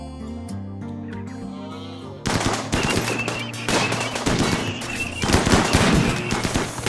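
Charged lance fire in the RimWorld video game bursts in loud, dense volleys of rapid shots after a calmer opening of steady tones, continuing without pause to the end.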